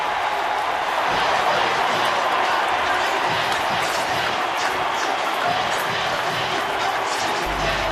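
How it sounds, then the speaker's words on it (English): A big baseball ballpark crowd roars and cheers continuously after a run-scoring triple, a loud, broad, sustained wash of voices and clapping heard from within the stands. "Listen to this crowd."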